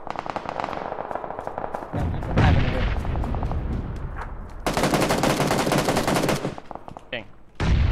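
Rapid bursts of gunfire in a competitive shooting video game match, loud automatic volleys and single shots in clusters, with players talking over the action.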